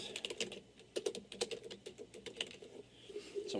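Rapid, irregular keystrokes on a computer keyboard while entering text into digital signage software, close and steady with no talking.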